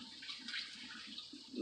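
Warm water poured from a cup into a cooking pot of potatoes and vegetables makes a continuous soft splashing and trickling, rising slightly at the end.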